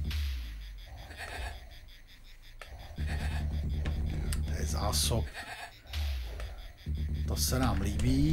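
Sheep bleat in the Amiga strategy game Powermonger, with several short nasal bleats sounding over a steady droning game soundscape while someone talks quietly throughout.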